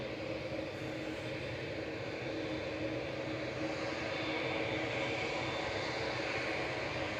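Boeing 787-9 airliner taxiing at Manchester Airport, a continuous low jet engine roar and whine heard from a distance, steady and unbroken.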